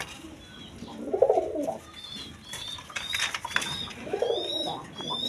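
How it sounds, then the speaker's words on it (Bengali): A pair of red Raj Golla pigeons, a male and a female, coo in two clear rounds of low, throaty calls, with faint chirps in the background between them. "এইখানে এক পেয়ার রাজগোল্লা কবুতর আছে"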